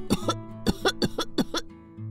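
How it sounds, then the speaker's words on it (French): A series of harsh, close coughs comes in a few quick bursts, with short pauses between fits. "Oh, le pauvre, il tousse beaucoup."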